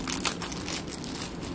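Jewellery being unpacked from crinkly packaging, with close, continuous crumpling and rustling throughout and no voices.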